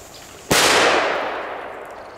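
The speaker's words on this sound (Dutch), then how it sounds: "Die kleine knalletjes." One small Belgian firecracker pops with a sudden, sharp crack close by, its echo trailing away gradually over the next second or so.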